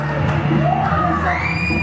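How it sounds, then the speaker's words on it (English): A wrestling crowd roars and cheers loudly at a UK wrestling show, with mixed shouts and whoops filling the hall for a brief, continuous burst. "Horace getting this crowd fired up here. All fired up."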